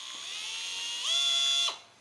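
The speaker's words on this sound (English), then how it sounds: "just drill a little hole right there where all the clecos go" A drill bores a small cleco hole through an aircraft window on a Glastar Sportsman, a steady high whine that rises in pitch under load for about half a second before it spins down.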